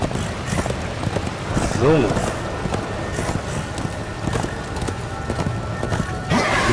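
Horse hoofbeats clip-clop steadily while riding in the video game Darksiders, with a brief whinny partway through, heard under game ambience and a voice talking.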